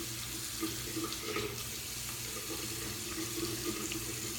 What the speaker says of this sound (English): Let me rinse my face a little bit.